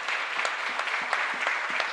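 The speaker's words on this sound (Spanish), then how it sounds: "un fuerte aplauso para ellos" A church congregation at a Spanish-language Mass in a chapel in Lambaré applauds graduating secondary-school students. The clapping is dense and lively, sounds close, and keeps up a steady rhythm through the whole short stretch.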